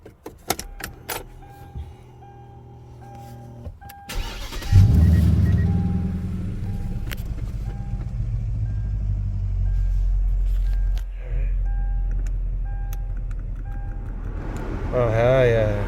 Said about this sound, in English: I'm gonna start the car real quick and try the AC.